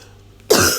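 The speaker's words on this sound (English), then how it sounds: "the jokes are on me because I had a genuine actual cough then" A single sharp, genuine cough bursts out close to the mic after a near-silent stretch, then trails off briefly.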